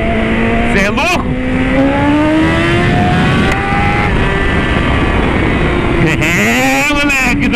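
A motorcycle engine in slick mode revs loud and close, pitch climbing steadily through a long pull, with brief sharper blips near the start and end.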